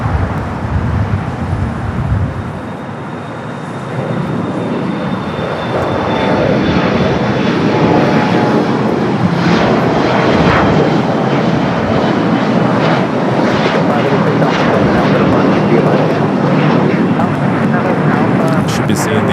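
An airliner taking off from runway 25 right at Los Angeles International Airport, loud jet engine roar building and sustained close by, with radio voices heard over the noise.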